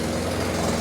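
A 1983 Toyota engine, long abandoned in a barn, idles roughly and steadily with a low rumbling drone that stays even throughout, close and alone with no talk.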